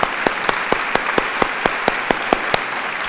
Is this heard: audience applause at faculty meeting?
yes